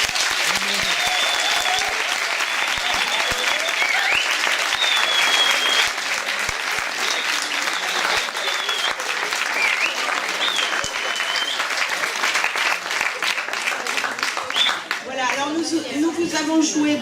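Concert audience applauding musicians, sustained dense clapping at steady volume for over a dozen seconds, then thinning out as a voice begins talking near the end.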